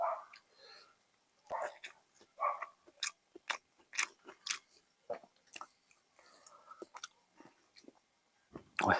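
Steamed beef sausage and crunchy cabbage with a spicy dipping sauce are bitten and chewed close to the mic, giving a run of moist, crisp crunches, with soft talking at the start and end.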